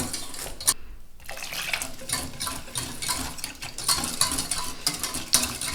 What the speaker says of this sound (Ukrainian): Трошки вливаю і перемішую.